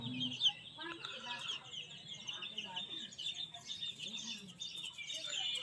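Many small Sonali chicken chicks chirp continuously in high, overlapping peeps, with occasional clucking and a voice speaking softly underneath.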